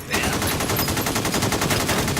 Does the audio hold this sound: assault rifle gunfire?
yes